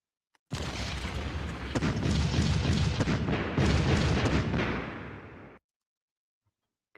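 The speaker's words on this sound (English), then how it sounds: "dropping all our artillery on this guy" Artillery barrage in a WWII Ardennes Offensive strategy video game: about five seconds of dense rumbling booms with crackling impacts layered on top, then a sudden cut to silence.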